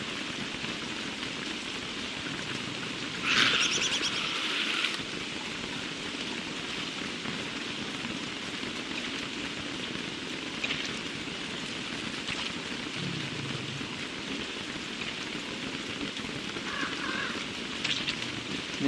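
Heavy rain in the game Don't Starve Together: a steady, dense wash of rainfall runs the whole time, with a few brief louder splashes and in-game effects rising above it and no talk.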